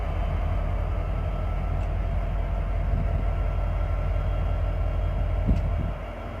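Train engines at the Winnemucca depot rumble steadily in a heavy, continuous low drone that holds for several seconds, then drops slightly near the end.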